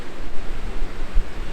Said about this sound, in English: Wow, the wind hitting these is so loud.